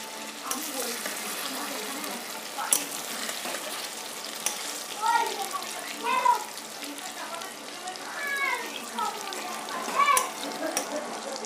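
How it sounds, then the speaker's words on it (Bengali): Potato pieces fry in oil in a home kitchen pan, giving a steady soft sizzle with occasional stirring scrapes, while faint voices and household noise sit in the background. "আলুটা ভাজা হয়ে যাক।"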